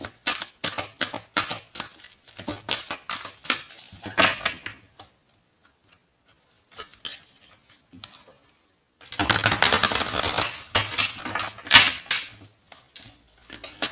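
Tarot cards being shuffled by hand, giving bursts of quick papery riffling and clattering taps, with a quieter stretch in the middle before a louder flurry near the end.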